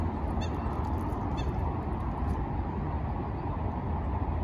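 Goose honks a few times early on, faint against a loud, steady outdoor rumble of wind or traffic.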